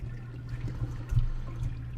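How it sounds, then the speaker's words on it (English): A toilet flushes in the Deus Ex: Human Revolution video game, giving a steady rushing, gurgling water sound with a low hum underneath and no talking. "I can flush his toilet."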